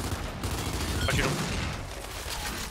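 Gunfire in the video game Gears 5 pops out as a rapid, dense burst over a noisy, busy game soundscape, loud and close, with a brief sharper shot in the middle.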